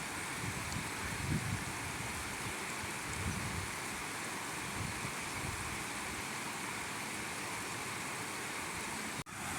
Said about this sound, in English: there's a really cool waterfall up there